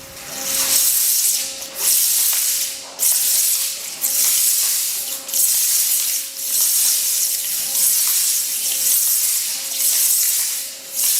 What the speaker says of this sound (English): So water on versus water and garnet. You're going to hear the garnet break the sound barrier.